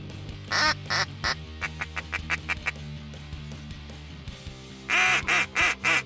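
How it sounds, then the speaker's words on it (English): A big gray duck quacks loudly in repeated bursts, with a run of rapid calls early on and a strong series of harsh quacks near the end, close by over a constant low background drone during a Louisiana duck hunt. "nice big gray duck"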